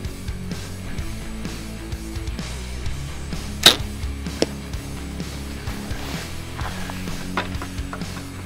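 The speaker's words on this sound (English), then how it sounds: "I don't know if you heard that thud, but that was definitely a louder impact downrange." Arrow fitted with an Iron Will impact collar: a sharp crack at release is followed by a faint, distant thud of impact downrange, with steady wind noise throughout.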